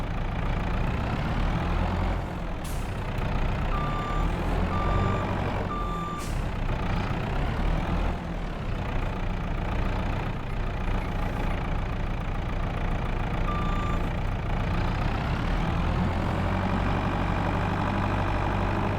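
Truck engine idling steadily in the farming game Hills of Tuscany, with repeated electronic reversing beeps sounding in a regular rhythm over the constant low rumble, close and continuous.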